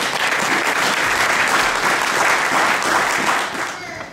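A church congregation bursts into loud, sustained applause and cheering that fills the room steadily, then tapers off slightly at the end.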